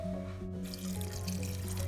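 Water pours into a pot of rajma kidney-bean curry, a running splash and trickle over a steady low hum of cooking, with no speech.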